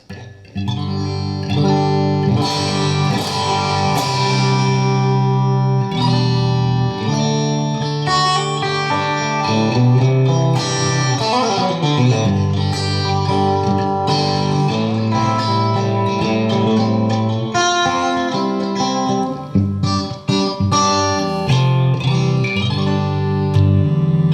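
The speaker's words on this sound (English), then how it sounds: "I was looking for the absolute sparkliest Vox AC30 sound ever" Bright, chiming electric guitar through a Vox AC30-style top boost tone rings out with sparkling clean tone and reverb, strummed chords and picked notes playing continuously.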